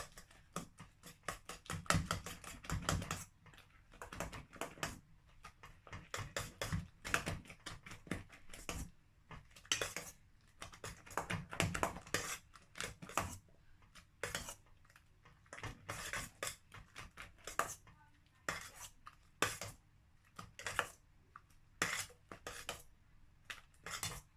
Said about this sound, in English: Then I'm going to mix all that together.